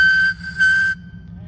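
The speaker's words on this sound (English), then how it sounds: "Whistle, bell, the whole bit." The whistle of a homemade train parade vehicle built on a truck chassis at a Veterans Day parade sounds two loud, steady, pure-toned blasts, the second cut off sharply, over outdoor rumble.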